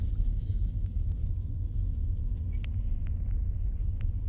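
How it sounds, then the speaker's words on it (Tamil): Steady low road rumble of passing cars on a city street near new construction, continuous and fairly loud with a few faint higher clicks and no talking. "டிராஃபிக் ஆரம்பிச்சிருச்சா?"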